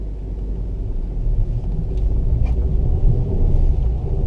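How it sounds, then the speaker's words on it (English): A manual car pulls away from a stop on snow with its tires spinning briefly, a steady low engine rumble building slightly as it moves off. "I still spun the tires a little bit, but like I said, not terrible, didn't get stuck"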